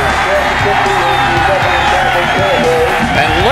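Crowd at a high school football game cheering and roaring continuously, loud and close, with voices and whoops blended into a dense wall of noise.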